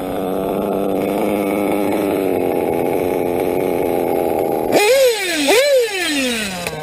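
A Traxxas nitro RC car engine idles low and rough with a steady buzzing drone, then blips up twice in quick revs near the end, close and loud.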